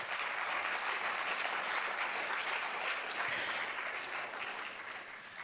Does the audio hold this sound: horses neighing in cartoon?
no